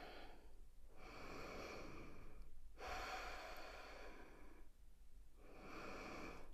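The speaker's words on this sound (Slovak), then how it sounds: "a hlboký výdych." Deep, slow exhales and inhales during a hatha yoga session, soft airy breaths repeating in long waves with short quiet gaps, close and faint, with no talking.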